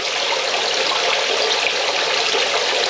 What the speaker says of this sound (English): Bubbler's bubbling.